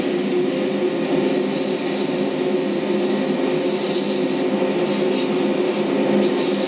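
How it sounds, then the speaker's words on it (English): Continuous close-up hissing of a spray can or gun laying on a heavy clear coat, steady and loud, with brief pauses between bursts. "Spraying real heavy just to get it all in there"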